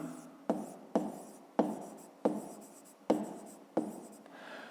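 A pen scratches across paper while numbers for a fifth-grade maths exercise are written down, in about seven quick, close strokes at an even rhythm with short pauses between them.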